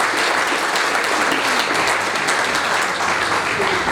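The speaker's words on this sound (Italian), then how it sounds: "l'applauso glielo facciamo da qua" Loud, dense applause from a choir festival audience at an alpine choirs gathering, a steady, unbroken roar of many hands clapping together throughout.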